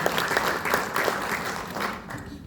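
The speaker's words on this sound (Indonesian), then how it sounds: "Tepuk tangan dulu Pak Darmin." A gathering at a spiritual talk on devotion to a guru breaks into applause, dense crowd clapping heard fairly close and steady for a couple of seconds before easing off.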